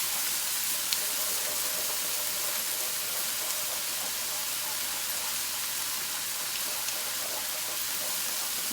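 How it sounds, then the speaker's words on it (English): An egg fries in a hot pan for shrimp fried rice with yellow onions, a steady loud sizzle that holds evenly throughout with faint crackles and no talking. "Cook that egg."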